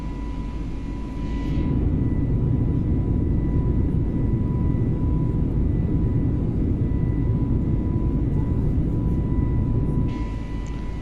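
A simulated airliner cruises in Microsoft Flight Simulator 2020 after flaps-up on a flight from Manila to Hong Kong. Its engines give a loud, steady cabin roar with a constant tonal hum, and no one speaks.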